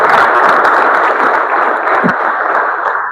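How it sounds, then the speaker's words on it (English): Sustained crowd applause in a large university hall welcomes Professor Madaki, the Vice Chancellor, to the podium. The loud, dense clapping holds steady for about three seconds, then cuts off. "Can we give him a round of applause as he meets his way to the podium?"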